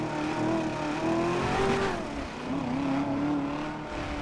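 A car driven recklessly through the streets of GTA V, its engine revving and whining up and down in pitch with a slight tire squeal, loud and continuous throughout.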